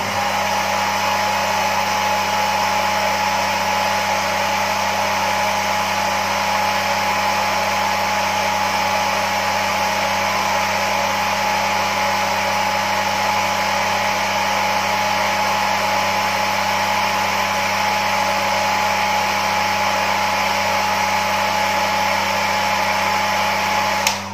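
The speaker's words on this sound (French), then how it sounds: "Je vais passer un petit coup de sèche-cheveux." A hair dryer blows at a steady, constant roar throughout, close and loud, with no pauses or changes in pitch.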